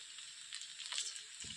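Ghee goes into muri ghonto, a Bengali fish-head and rice dish, in a pan. A soft, quiet sizzling hiss continues throughout, with a faint scrape near the end.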